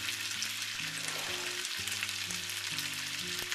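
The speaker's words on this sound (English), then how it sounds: "First you want to brown your chicken" Chicken browning in a frying pan, giving a steady close sizzle and crackle of hot oil, with a soft tonal background pattern running beneath it throughout.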